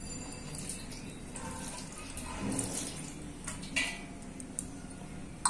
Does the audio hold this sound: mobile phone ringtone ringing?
no